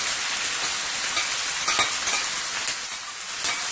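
Seasoning of thyme, scallion, basil, celery, parsley and onion sizzles loudly in hot olive oil, a dense continuous frying hiss with faint stirring clatter.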